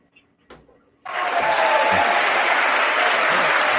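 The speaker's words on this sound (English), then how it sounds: "I mean, what you applauding for?" An audience breaks into loud, sustained applause that starts abruptly after a brief quiet stretch and keeps going steadily at full strength with no voices over it.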